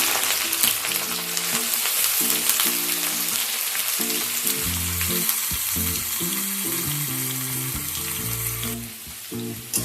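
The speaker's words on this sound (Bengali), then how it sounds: "এই পেঁয়াজটাকে আমি এবার ঘিয়ের মধ্যে দিয়ে দিলাম।" Two hundred grams of sliced onions fry in ghee for a mutton korma, giving a steady, fairly loud sizzle that runs the whole time over a bed of background music.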